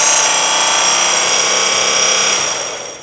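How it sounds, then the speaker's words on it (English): A rake is pressed against a polishing buff spinning at 2,400 RPM on a grinder, giving a loud, steady high-pitched whirring rasp that stays constant, then fades away near the end. "We're gonna rest this rake right on the handle and we're gonna break up this fibers to clean out this buff."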